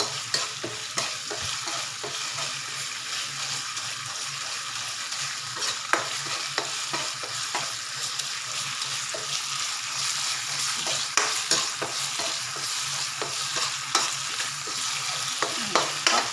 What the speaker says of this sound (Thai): ผัดเครื่องแกงเทปก่อนนะคะ